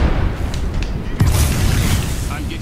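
A bomb goes off in Apex Legends with a loud, sudden boom partway through, followed by a rumbling blast tail over constant game noise and voice chat.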